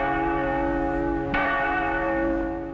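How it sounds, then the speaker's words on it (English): The Liberty Bell, a one-ton bronze bell, rings out with a single clear strike over a long, humming resonant tail that slowly fades, loud and close. "If a sound could capture the spirit of the American Revolution, give me liberty, it might have rung out something like this."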